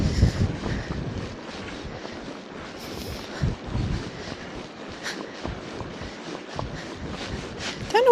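Strong wind buffeting the microphone on an open bridleway, a steady rough roar with gusty low thumps that rise and fall throughout, with no one speaking.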